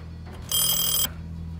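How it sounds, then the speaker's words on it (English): Telephone in a comedy sketch gives a single bright electronic ring burst lasting about half a second over a low steady hum, loud and close. "Could this be the phone?"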